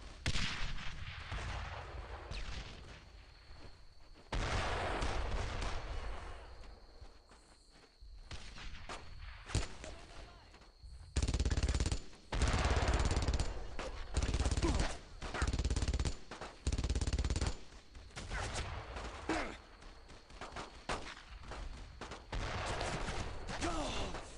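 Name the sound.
machine gun fire in video game Brothers in Arms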